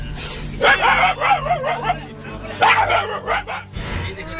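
A mother dog gives small yips and whimpering barks in short bursts, fairly close, during a fight with a cobra, with a busy background of voices underneath.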